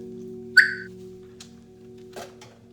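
An owner gives one short, sharp whistle for an Australian Shepherd dog, clear and close against a quiet indoor hum, followed by faint soft knocks.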